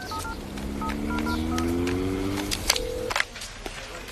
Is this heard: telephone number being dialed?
yes